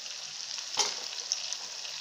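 Fish sizzles steadily in a hot pan, a close, continuous hiss with a couple of brief sharper crackles, no voices.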